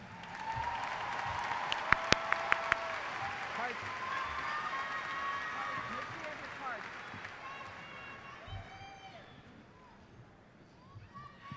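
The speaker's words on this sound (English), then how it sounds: "Let's give our top 10 another round of applause." Crowd applause and cheering for the top 10 graduating students at the Stony Point 2018 graduation, a broad roar of clapping with whoops and a few sharp claps, tapering off as voices continue in the large venue.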